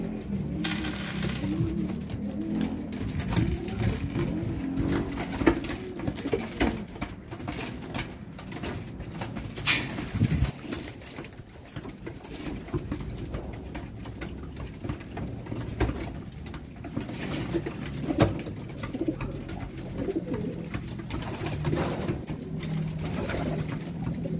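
Racing pigeons coo steadily at feeding time during a derby in Ilagan, Isabela, with a dense, continuous murmur of many birds, a few sharper clicks and rustles in the mix, and no voices.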